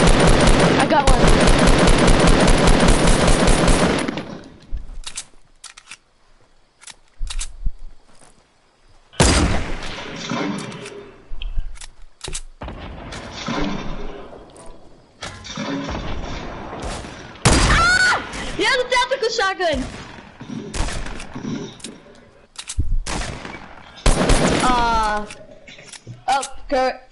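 Gunfire in Fortnite: a long opening burst of rapid automatic fire, then scattered single shots and short volleys, with players talking over the shooting throughout.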